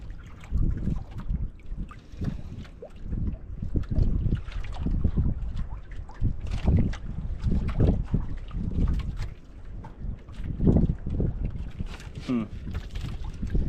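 Low rumbling engine and water noise of a boat with wind buffeting the microphone, while people talk nearby.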